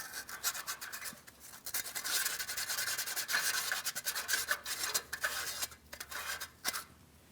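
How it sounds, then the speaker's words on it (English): Fine sandpaper scuffs the small oxygen-sensor port on the catalytic converter of a 2007-2014 Ford Edge 3.5L V6, a close, continuous raspy rubbing in quick back-and-forth strokes with short pauses. "I'm going to use some fine sandpaper and give it a light scuffing."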